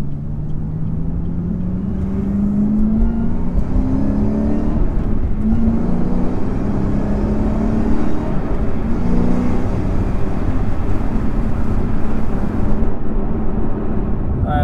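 A Chevrolet Camaro ZL1 1LE in sport mode drives with a steady deep engine drone and rumble, the pitch rising and dropping through gear changes over continuous road noise.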